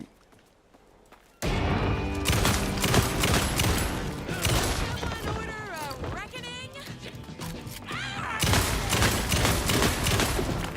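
Rapid gunfire from the Alan Wake 2 video game: loud, dense bursts of shots with clattering impacts that break out suddenly after a quiet start and run continuously over game music and a talking voice.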